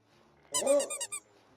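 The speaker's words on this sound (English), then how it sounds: "and you pick up your squeaky toy." A squeaky toy pickup effect in a 2D pirate video game: a short, bright series of four or five quick rubbery squeaks in rapid succession, clear and alone against silence.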